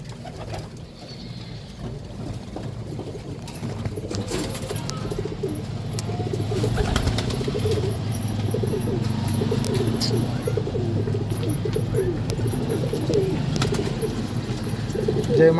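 Pigeons coo continuously at close range, low rolling calls overlapping in a steady chorus with occasional faint chirps and wing rustles and a soft voice in the background.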